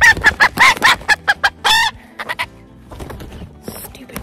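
A chicken clucks loudly in a quick series of sharp, close squawks, then goes quieter with scattered softer clucks and rustling before one more burst near the end.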